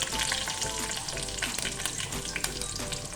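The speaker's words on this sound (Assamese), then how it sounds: "এয়া নহৰু কেইটা মই ভাজি লৈছো।" Garlic frying in mustard oil, a steady dense sizzle with crackling bursts and a few sharper pops, moderately loud and alone without talk.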